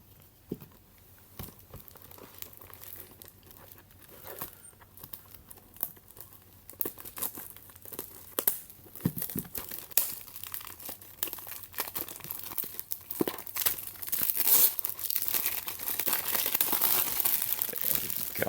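Plastic wrapper on a My Little Pony card game box being cut with scissors and peeled open, a run of close crinkling and tearing that grows louder and busier toward the end.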